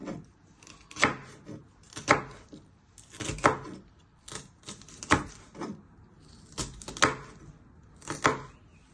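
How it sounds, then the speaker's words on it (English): A knife chops pepper into small pieces on a cutting board, giving irregular sharp taps in quick clusters with brief pauses, close and clear, with no talking. "Then turn it back round and chop it into little pieces."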